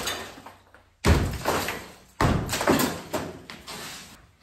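Heavy blows knocking out a door frame during demolition: two loud, sharp impacts with rattling decay, the first after a quiet moment and the second about a second later, then trailing clatter.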